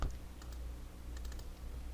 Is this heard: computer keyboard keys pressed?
yes